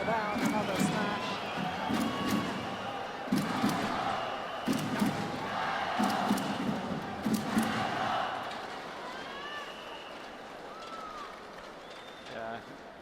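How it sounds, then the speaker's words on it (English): A crowd at a Sudirman Cup badminton semi-final between China and Korea roars in repeated bursts of cheering, rising and falling with sharp impacts over the hall's steady noise. "Big cheer from the crowd every time that Fu Haifeng was about to thunder down another smash."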